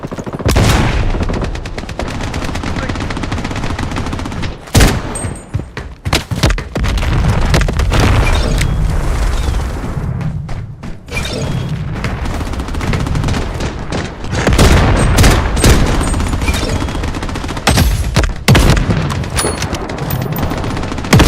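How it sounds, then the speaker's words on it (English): Heavy video game gunfire in a loud battle: dense bursts of shots and booms, sustained and overlapping, with sharp louder volleys near the middle and end. "Enemy shot! I'm under heavy fire."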